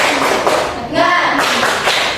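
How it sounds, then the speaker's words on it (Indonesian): A primary school class does the rhythmic tepuk semangat spirit clap in a classroom, with close, loud patterned claps and children's voices chanting along. "Coba kita tepuk semangat dulu deh."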